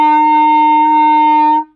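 A clarinet sounds a single sustained F, steady and clear for about a second and a half before it is released, played alone in a beginner lesson.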